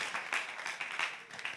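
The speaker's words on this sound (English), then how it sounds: "Oh, y'all should be clapping, man." Church congregation during a sermon breaks into brief, dense clapping, a steady wash of many hands at moderate distance.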